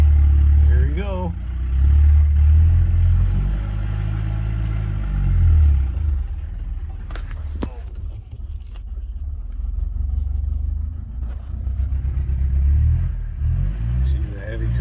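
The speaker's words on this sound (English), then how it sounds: "we opted to just drag it out of the shed" A heavy 1957 Monarch car is dragged out of a shed, giving a low rumbling, scraping drone that runs steadily throughout, with a few sharp clanks near the middle and people talking over it.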